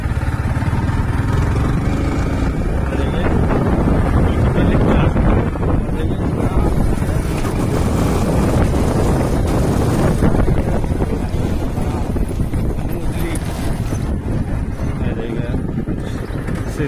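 A Yamaha R15M motorcycle engine revs steadily under strong wind noise, rising and falling continuously as the bike rides along with its quick shifter engaged.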